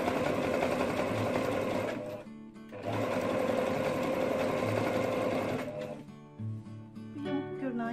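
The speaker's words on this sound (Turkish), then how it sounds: "Ama ben ucuca dikiyorum şu an. Yine zikzakla birleştiriyoruz." A sewing machine runs a zigzag stitch joining leather scraps edge to edge for a rug, its loud, fast mechanical chatter going in long bursts broken by short pauses.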